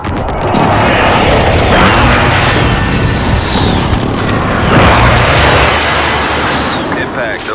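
Loud, dense in-game blasts from an airstrike in Call of Duty: Modern Warfare (2019), rumbling booms and crashes rolling continuously for several seconds with brief voice chatter underneath.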